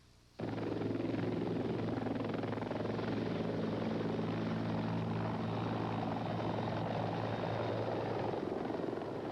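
A rescue helicopter engine and rotor roar loud and steady at close range, the sound starting abruptly and holding a heavy, continuous throb throughout with no voices over it.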